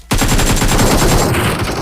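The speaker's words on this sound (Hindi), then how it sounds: "नीचे से आ रही थी गन साउंड" Rapid automatic gunfire in the BGMI battle royale mobile game, a loud, dense burst of shots that starts suddenly and continues without a break, with no talking.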